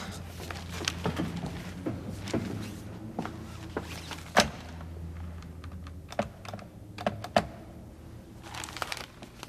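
Buttons pressed on a telephone to dial a call, a series of distinct clicks and taps over low room noise, close by, with no speech.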